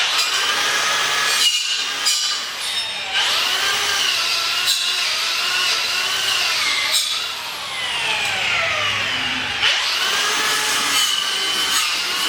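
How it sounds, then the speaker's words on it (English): A Milwaukee M18 Fuel cordless grinder runs at high speed with a loud, whining grind that rises and falls in pitch as it bites into material. Several brief dips break the steady sound. "Another one of my personal favorites, Milwaukee M18 grinder. This is a fuel model."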